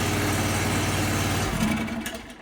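An AGT KTT23 snow blower engine runs loud and close, a steady low throb with throttle held for about a second and a half before the pitch shifts and the sound starts to fall away.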